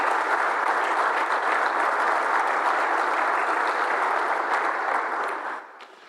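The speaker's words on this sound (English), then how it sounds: "So give them a round of applause," A room of attendees at a Baylor baseball introductory press conference applauds, a full, even wash of clapping that stays steady for about five seconds before tapering off quickly.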